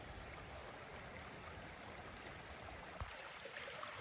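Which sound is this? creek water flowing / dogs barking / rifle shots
creek water flowing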